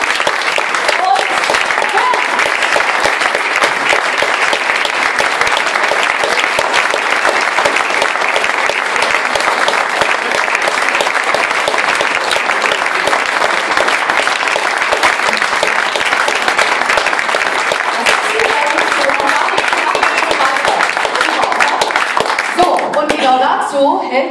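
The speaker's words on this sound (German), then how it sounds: "begleitet durch einen donnernden Beifall" Thunderous applause from a large audience at a song award ceremony, a dense, loud, steady wash of clapping lasting throughout before thinning out at the very end.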